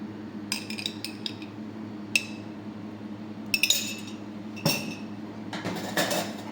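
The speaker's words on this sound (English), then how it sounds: "Muddle nicely." Red jalapeno being muddled in a glass for a bhut jolokia cocktail: scattered clinks and knocks of the muddler against glass, some in quick clusters, over a low steady hum.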